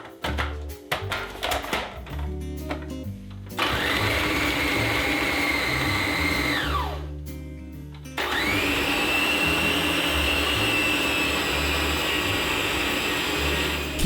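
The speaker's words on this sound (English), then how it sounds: "so I will use a food processor." A food processor whirs loudly as it pounds fufu dough, running in two long stretches split by a short pause, with clattering at the start and a steady close motor drone throughout.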